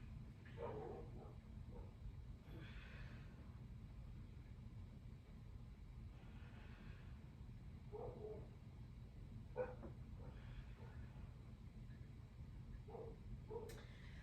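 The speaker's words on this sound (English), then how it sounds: "There's something about when my neighbor's dogs are barking," Neighbor's dogs barking in short scattered bursts at a distance, faint against a low steady background hum.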